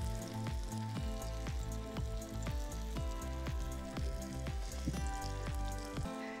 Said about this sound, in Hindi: गरम तेल के अंदर इसे फ्राई करना है।